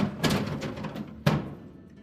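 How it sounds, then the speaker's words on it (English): A crisper drawer slides back into a GE refrigerator during a water tank repair, giving two distinct plastic clunks about a second apart, close and moderately loud against quiet room noise. "And then reinstall the crisper drawer."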